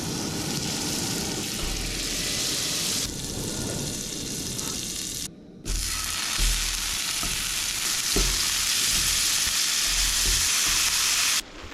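Beyond breakfast sausage fries in a pan at a campsite in Sturgeon Bay Provincial Park, Ontario, a loud continuous crackling sizzle with soft low knocks, dropping out for a moment at mid-clip and again at the very end.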